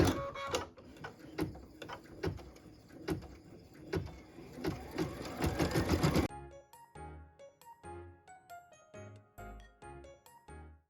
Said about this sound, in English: we're going to go ahead and stitch the star base placement line